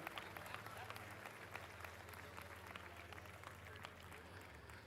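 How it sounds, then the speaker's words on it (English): An audience claps at a live fall-sale auction in Branson, a steady wash of applause lasting throughout with a low hum underneath. "Let's give another big round of applause for this young person stepping up and doing the right thing"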